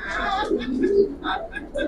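A silver pigeon in a loft gives soft, low cooing calls in short bursts, near and moderately quiet.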